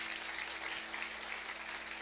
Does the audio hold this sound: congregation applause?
yes